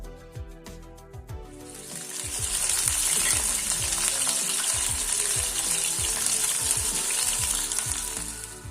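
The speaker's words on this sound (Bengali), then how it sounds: "এই চিকেনগুলোকে মিডিয়াম টু লো ফ্লেমে আমরা ক্রিস্পি হওয়া পর্যন্ত আর লাল লাল রং হওয়া পর্যন্ত কিন্তু ভেজে তুলে নেব" Chicken pieces deep-fry in oil over a medium-to-low flame until crispy. A quieter start gives way after about two seconds to a loud, dense, bubbling sizzle that stays close and steady, with no talking.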